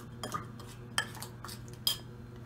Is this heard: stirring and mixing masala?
yes